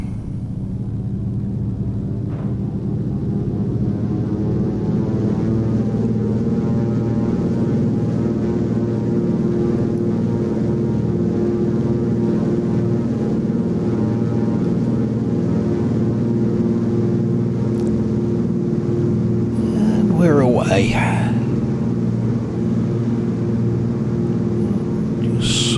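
A light aircraft's engine runs steadily at the runway end before takeoff, a loud continuous droning rumble with strong low harmonics throughout, with a brief swelling whine near the end.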